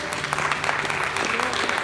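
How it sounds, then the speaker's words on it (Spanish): A church congregation claps along in steady, overlapping applause that continues throughout at moderate loudness, with a voice faintly mixed in. "Dale palmas al Señor."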